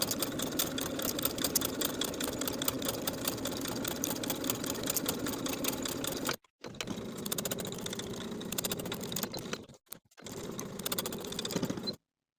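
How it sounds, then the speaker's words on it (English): A sewing machine edge stitches a kimono robe belt, its fast steady needle chatter running close and loud, cutting out briefly twice before resuming and then stopping. "Now I'll edge stitch starting from the bottom of one short edge to the upper corner"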